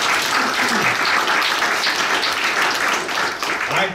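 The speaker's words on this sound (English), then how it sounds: "It sounds like you gave them many rounds of applause, but let's give them another one." Sustained audience applause fills the room for Native youth at a celebration event, a dense, steady clapping roar lasting the full few seconds with slight dips near the end.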